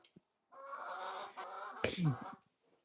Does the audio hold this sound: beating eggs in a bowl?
no